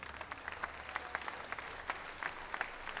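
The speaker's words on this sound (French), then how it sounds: "bravo aux éleveurs, on peut les applaudir s'il vous plaît." Audience at a livestock breeding championship gives the breeders a light round of applause, fairly faint scattered claps with distinct individual hand strikes over a low hum.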